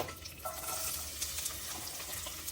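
Green chillies fry in heated oil for a village-style chicken curry, giving a faint, steady crackling sizzle with soft stirring scrapes throughout and no voices.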